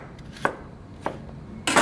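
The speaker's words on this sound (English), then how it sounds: "And they're halved, and just cut them into 1/4-inch slices." A knife cutting halved cucumbers into quarter-inch slices on a cutting board, giving three crisp chops spaced about half a second apart, close and clear, the last one slightly longer.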